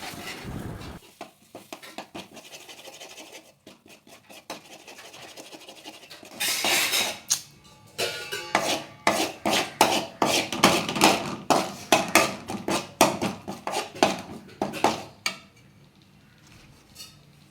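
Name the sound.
stirring ground masala in a cooking pan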